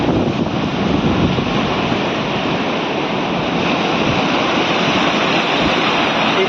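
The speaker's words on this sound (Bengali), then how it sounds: "এই যে ঢেউটা আসছে তোমরা দেখো" Ocean waves surge and crash steadily against a sea embankment at Gangasagar, a loud continuous roar of churning surf mixed with wind buffeting the microphone, no voices.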